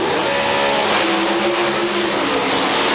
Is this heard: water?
no